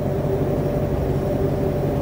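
Steady broadband hiss and low rumble from a running car's engine, constant and unbroken with no talk over it.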